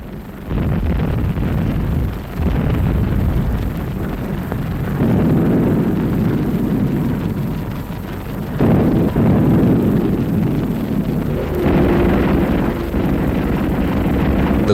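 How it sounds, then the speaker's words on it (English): A Grumman warplane attacks ships during the Battle of Leyte Gulf, heard as a loud, continuous roaring rumble of engines and blasts that surges and shifts in waves without any voices. "The Grumman spews flames from its left wing and falls."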